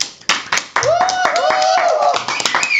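A handful of sharp, scattered hand claps ring out close by, under a voice speaking or calling out.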